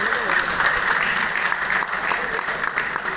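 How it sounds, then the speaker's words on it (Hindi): An audience at a business training event breaks into loud, dense applause that carries steadily from start to end as one continuous wash of clapping. "जोरदार ताली"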